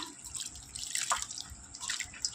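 Water is added little by little to papad dough, a soft trickling and dripping pour heard close and quiet, with faint squelchy mixing.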